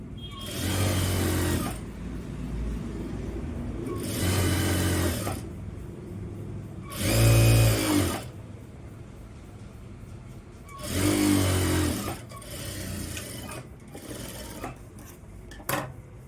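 A sewing machine stitches a pant seam in four loud, close bursts of rapid whirring, each lasting one to two seconds, separated by quieter pauses with faint handling sounds.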